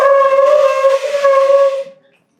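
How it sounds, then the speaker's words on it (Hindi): Conch shell blown at a book launch ceremony, one long loud steady tone with strong harmonics lasting about two seconds before cutting off. "शंखनाद कृपया करें पुस्तक लोकार्पण के समय।"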